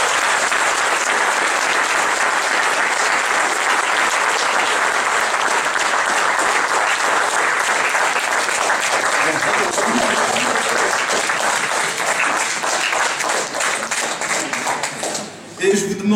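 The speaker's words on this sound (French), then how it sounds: "Je vous demande d'applaudir Jean-Christophe Lagarde." A crowd at a UDI party New Year's gathering in Seine-Saint-Denis gives Jean-Christophe Lagarde loud, dense, sustained applause, which thins briefly near the end.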